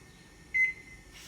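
A single short electronic beep rings out from a kitchen timer as it is set, clear and close against a quiet room.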